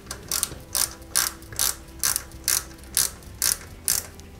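Four small screws driven into a circuit board plate on an Eaglemoss Ghostbusters Ecto-1 model car, heard as nine short, evenly spaced ratcheting clicks of a screwdriver, close and fairly quiet with no talking.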